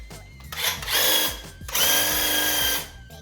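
Graco airless handheld sprayer applying paint to a timber door gives two loud, sustained hissing, whirring bursts, each lasting about a second, separated by a short pause.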